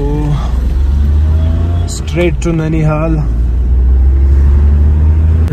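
A car drives along, heard from inside the cabin as a loud, steady low engine and road rumble that carries through the whole stretch, while someone speaks briefly over it.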